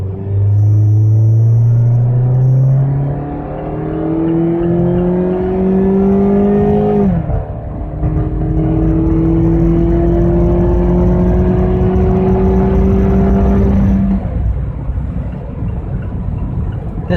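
Mazda Miata RF in sport mode accelerating hard through two long gear pulls, engine pitch climbing steadily with a brief dip at the shift, loud and close with steady road rumble underneath.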